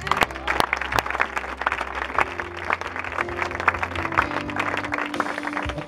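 Church congregation applauding the Lord during a pastor's service, dense sustained clapping across the whole stretch, mixed with crowd noise and sustained musical tones underneath.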